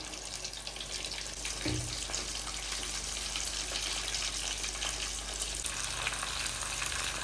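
Soya samosas deep frying in oil, a continuous soft bubbling hiss throughout with one brief knock partway, fairly faint and steady.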